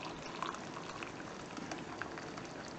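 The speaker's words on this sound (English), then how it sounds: "So now going to put in water into" Water is poured into a kitchen jug while making carrot and lentil soup, giving a continuous bubbling, gurgling stream at a steady, moderate level.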